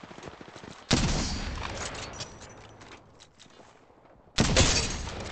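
Loud, close bursts of gunfire in a battle royale shooter game, two sharp volleys with a rattling decay between them and a short quiet lull before the second.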